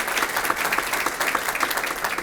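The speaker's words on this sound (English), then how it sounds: "How about a round of applause for those outstanding educators to compete at that level?" Audience applauding outstanding educators at a school district Teacher of the Year program, a steady wash of clapping from many hands that fills the short stretch at even loudness.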